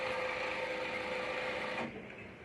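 An electric sewing machine stitches clothes with a steady, close, whirring hum and a faint high whine, running evenly and then stopping abruptly near the end, leaving a quiet room tone.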